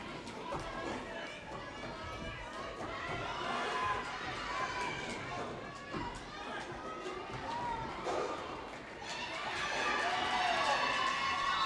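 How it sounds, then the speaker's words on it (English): Spectators at a roller derby finals bout cheering the Kingston team, a sustained swell of shouts and cheers that rises and falls, with announcers talking over the crowd. "We've got some folks cheering Kingston on"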